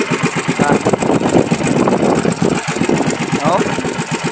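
A new outboard engine on a small fishing boat running steadily close by, a loud rhythmic mid-pitched putter under voices talking.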